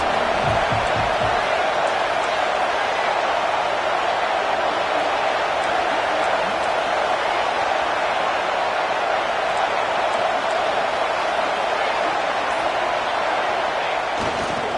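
A loud stadium crowd roars at a football game on a fourth-down play, a dense, continuous wash of cheering and noise that holds for the whole stretch, with an announcer's voice over it.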